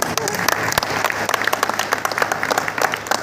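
An audience at a Hindi poetry gathering breaks into applause, a moderate burst of scattered hand clapping close by, with a voice speaking faintly beneath it.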